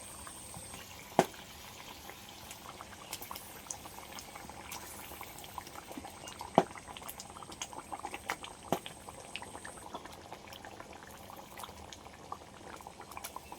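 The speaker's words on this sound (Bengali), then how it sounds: "তরকারির ঝোলটা ভালোভাবে ফুটে উঠেছে" Curry broth for a spicy rupchanda fish dish bubbling at a steady boil in a pot, soft continuous burbling with a few sharp clinks, close and fairly quiet.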